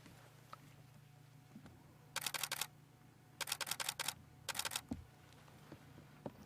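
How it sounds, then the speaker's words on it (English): A camera shutter fires in three quick bursts of rapid clicks while photos are taken on a sunset safari, each volley crisp and close against quiet outdoor background. "So that clickety-click you heard is just me taking a few pictures."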